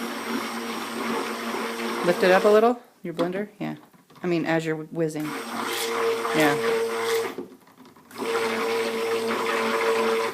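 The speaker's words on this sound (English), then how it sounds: "Lift it up a little, your blender?" A blender making lemonade whirs loudly in bursts, stopping briefly while people talk, then whizzing on again steadily.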